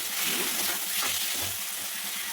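Boiled potato pieces sizzle in a pan with egg masala, a steady close hiss of frying with faint stirring scrapes throughout.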